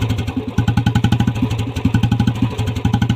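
A Royal Enfield Bullet motorcycle engine idles nearby during servicing with a steady, loud thumping beat, its regular pulses continuing throughout without any talking.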